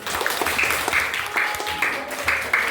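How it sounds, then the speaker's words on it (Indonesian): Students in an Indonesian classroom break into brief scattered clapping, moderately loud and close, with irregular bursts of hand claps and light background murmur. "Tepuk tangan dulu."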